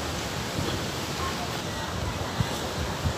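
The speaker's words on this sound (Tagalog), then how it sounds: "Ganyan kalakas ang alon ngayon." Strong sea waves roll in during rough weather, a broad, continuous roar of surf with a few soft thuds rising above it, close and steady.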